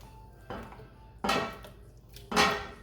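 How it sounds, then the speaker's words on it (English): Squash casserole mixture spooned into a casserole dish: three distinct scraping clinks of a spoon against the dish, close and fairly soft, with quiet pauses between them. "We're just going to spoon this in."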